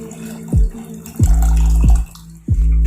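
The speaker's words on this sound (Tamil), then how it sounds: "சூப்புக்கு தேவையான அளவு தண்ணி விட்டுக்கோங்க" Water poured into a pot of mutton soup in several quick, loud splashing gushes with short gaps, close by.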